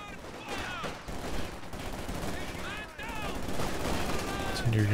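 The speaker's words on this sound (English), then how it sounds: "MG34 doing a good job though, suppressing these squads" MG34 machine gun fire in the strategy video game Company of Heroes 2 rattles in rapid bursts at low level, beneath someone speaking throughout.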